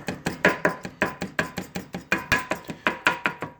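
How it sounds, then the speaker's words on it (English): Frozen ground turkey being broken up in a Red Copper square pan, producing a steady run of sharp, evenly spaced chopping knocks, loud and close, with no voices. "the reason I'm breaking it up is because this is a roll of the frozen ground beef, or ground turkey rather"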